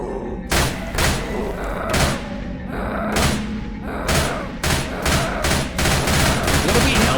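Loud bursts of gunfire in Left 4 Dead, sharp repeated shots in quick irregular volleys with heavy thumps, filling the whole stretch.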